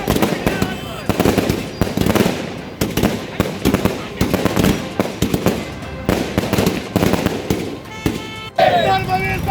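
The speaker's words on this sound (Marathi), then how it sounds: "मराठा समाजाने फटाके फोडून एकमेकांना पेढे भरवून जल्लोष करून कॅबिनेट मंत्री संजय बनसोडे यांचे अभिनंदन केल" Firecrackers burst at a Maratha community celebration in a town square: rapid, loud, overlapping cracks and bangs come in dense volleys, with voices mixed in the background.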